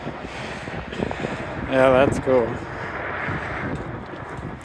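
Strong wind gusts buffet the microphone on a mountain bike trail in Bentonville, a rough continuous rush, and a person briefly speaks partway through.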